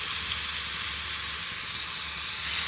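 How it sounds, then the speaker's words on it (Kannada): Chicken pieces frying on a hot tawa over medium flame give a steady, close, even sizzle and hiss with no voices. "ಬೋತ್ ಸೈಡ್ಸು ನೀಟಾಗಿ ಫ್ರೈ ಮಾಡಬೇಕು ಅಷ್ಟೇ"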